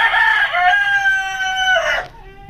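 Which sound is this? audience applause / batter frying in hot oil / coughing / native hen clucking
native hen clucking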